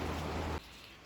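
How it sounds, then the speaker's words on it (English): Steady broadband rain falling outside, a dense hiss that holds loud for about half a second, then drops abruptly to a quieter wash for the rest. "Ooh, the rain's coming now."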